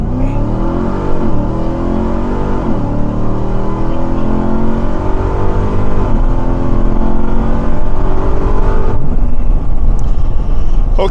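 A 2021 Ram TRX pickup fitted with an S&B cold air intake launches hard from a standstill, its loud engine roar climbing in pitch through successive gear shifts, close and continuous for about nine seconds before the tone drops off.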